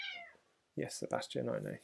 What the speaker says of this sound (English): I hope you can hear my cat meowing